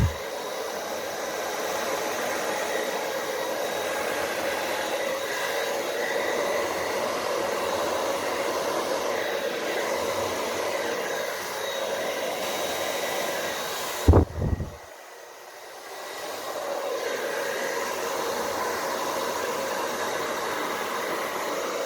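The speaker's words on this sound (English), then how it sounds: "I'm just blowing the excess black paint off the canvas." Steady, loud rushing air from a hair dryer blows excess black acrylic paint off a canvas in a fluid-art pour, running continuously before a brief clunk and abrupt cutoff, then a fainter hiss resumes.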